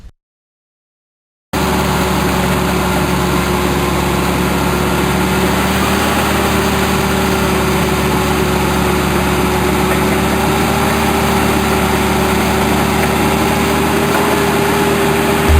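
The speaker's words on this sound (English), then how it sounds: "what he's done with the bulldozer is he's ripped one way, and now he's turned around and he's cross ripping" A bulldozer rips and cross-rips ground over rabbit warrens, its engine droning loud and steady after a moment of silence at the start, with no one speaking.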